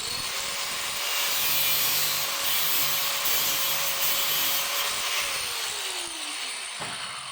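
Continuous buzzing whine of a saw cutting through material, fairly steady, with the pitch dropping as the cut finishes near the end.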